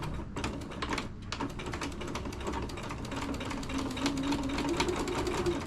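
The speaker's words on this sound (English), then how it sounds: "let's go to the sewing machine. And I do have a walking foot on my machine because of how thick these fabrics are." A sewing machine fitted with a walking foot stitches through thick dish-mat fabric, a rapid, steady mechanical clatter heard up close and continuing without pause.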